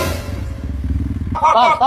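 Motorcycle engine revving at a village trail-riding practice, a low throbbing idle that rises into a louder, harsher rev near the end, with voices talking over it.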